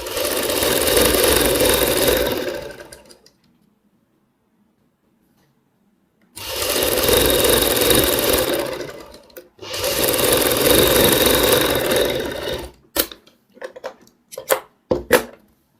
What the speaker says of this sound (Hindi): अब मैं दूसरे निशान पे दूसरी सिलाई लगाऊंगा।